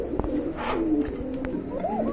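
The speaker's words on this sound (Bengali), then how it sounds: "কবুতরগুলো কিন্তু ব্রিডিং মুডে রয়েছে, বিগ সাইজের কবুতর" Large pigeons in breeding mood coo softly nearby, a few low throaty calls rising and falling over faint background noise.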